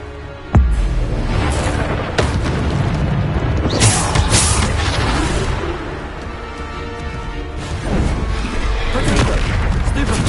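Bombarda explosive spell blasts in the video game Hogwarts Legacy boom heavily in a loud, continuous battle din, with sharp impacts near the start and repeated crashing bursts throughout.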